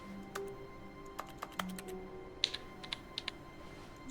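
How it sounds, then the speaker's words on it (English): Keys clack on a mechanical keyboard in short, irregular bursts of sharp clicks, some louder than others, over a faint background hum with no talking. "Actually, it's keys on a mechanical keyboard."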